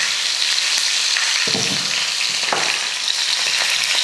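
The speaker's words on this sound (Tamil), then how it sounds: "எண்ணெய் காஞ்சதுமே கொஞ்சம் கடுகு உளுந்து, கொஞ்சம் ஜீரகம், வரமிளகாய் ஒரு 2 மிளகாய் சேர்த்துக்கோங்க" Mustard seeds, urad dal, cumin and dried red chilies tempering in hot oil, a steady close sizzle with crackling spits and a couple of brief stirring thumps, no voices.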